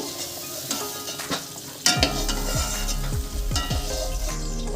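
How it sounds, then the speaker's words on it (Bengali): Pumpkin pieces sizzle steadily in hot oil in a home kitchen, a loud, continuous fry that jumps up in intensity when the pieces hit the pan, with occasional stirring scrapes. "এবারে আমি কুমড়োটাও হালকা লাল করে ভেজে নেব"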